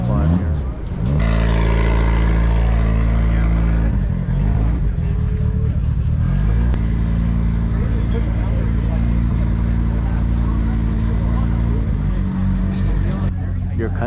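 A race car on the Pikes Peak hill climb drives with a loud, steady engine roar that briefly dips and then holds. Excited voices shout over the engine noise.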